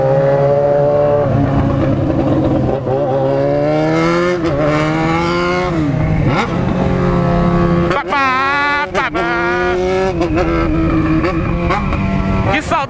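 A white Yamaha XJ6 and Honda CB1000 motorcycle rev hard, with repeated rising and falling engine pitch sweeps and sharp throttle blips, loud and close, some overlapping roars as the revs climb and drop.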